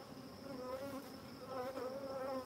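Honey bees buzzing around an open beehive, a faint, steady layered hum of many insects close by with no voices.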